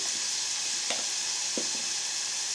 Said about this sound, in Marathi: मस्त भाजून घ्यायचं. थोडी धनियाची पावडर टाकून घेतली